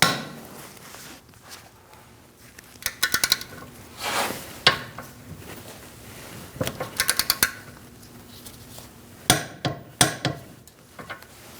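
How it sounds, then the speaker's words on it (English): Torque wrench tightening the rear wheel hub bolts on a 2016-2019 Chevrolet Cruze: bursts of quick metallic ratchet clicks in short runs, with clanks and knocks of tools between, close and fairly loud. "We're going to torque this to 74 foot-pounds."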